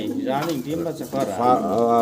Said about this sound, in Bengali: মাশাআল্লাহ চমৎকার এক জোড়া মডানা কবুতর, খুবই রাগী এবং খুবই খেপান